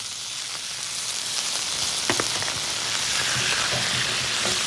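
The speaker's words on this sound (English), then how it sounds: "After coating it with some peanut oil, we toss in some slivered garlic and ginger. After that starts to sizzle," Beef strips, slivered garlic and ginger sizzle steadily in hot peanut oil in a wok, a continuous close frying hiss with small crackles and pops and no voices.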